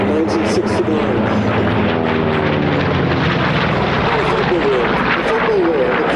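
Vought Corsair piston-engine fighters fly in a three-ship formation at Sywell Airshow 2024. Their deep, continuous propeller drone stays loud and steady overhead, with voices talking beneath it.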